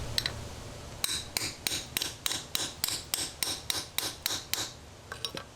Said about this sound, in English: Place the mandrel down onto the grommet and hammer it down.